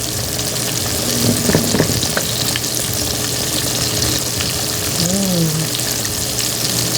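Chicken deep frying in a multi-purpose MP5 cooker used as a deep fryer: a steady, loud hiss and sizzle of bubbling oil throughout, with faint stirring clinks and a brief voice over it.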